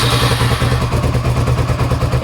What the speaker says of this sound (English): Power on, engine on.